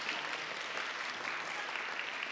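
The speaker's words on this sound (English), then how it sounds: "you can applaud, it's okay" Audience applause at a live science show, a dense steady wash of many hands clapping at once, holding even and fairly loud for the full stretch with no voices over it.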